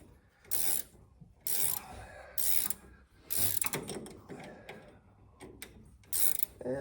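A wrench ratchets in short repeated bursts as a bushing on a classic American car's shock absorber is tightened, close and crisp, with pauses and small metallic rubbing between the strokes.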